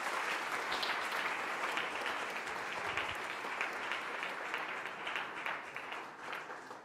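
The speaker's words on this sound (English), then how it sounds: "Please join me in giving both teams a big warm round of applause" Audience applause for debate teams at a friendship debate, steady and fairly even crowd clapping filling the hall for several seconds before gradually thinning, with no speech over it.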